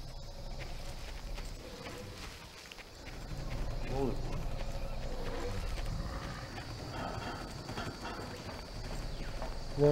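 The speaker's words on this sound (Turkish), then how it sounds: "anıran iğrenç yaratıklar var işte" Hooves of braying creatures in the video game Far Cry, a steady clip-clop of galloping steps mixed with game ambience, while someone talks over much of it.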